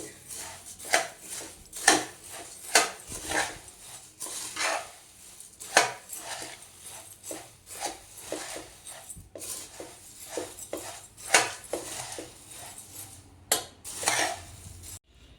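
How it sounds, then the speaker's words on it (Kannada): Churumuri puffed rice is stirred with tempering in a bowl: repeated close clinks and scrapes of a metal spoon against the bowl in an irregular rhythm, with a dog barking faintly at times. "ಈ ರೀತಿ ಎಲ್ಲ ಚುರುಮುರಿ ಮೇಲೆ ಹಾಕಿಬಿಟ್ಮೇಲೆ ಈ ರೀತಿ ಕಲಿಸ್ಕೋಬೇಕು ಇದನ್ನೆಲ್ಲ ಚುರುಮುರಿಯಲ್ಲಿ"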